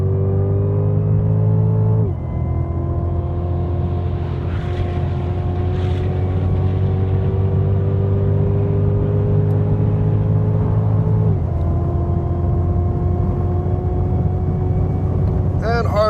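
A 2016 Cadillac CTS-V Coupe accelerates up a track straightaway, its engine a loud, steady, close drone that climbs in pitch, drops briefly at a gear change and climbs again, with a voice over it.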